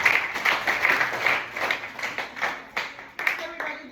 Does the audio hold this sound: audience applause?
yes